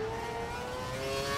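A Lotus Formula 1 car in the racing game F1 2012 at the Abu Dhabi Grand Prix accelerates with a steady, high engine whine rising slightly in pitch, heard alone and moderately loud.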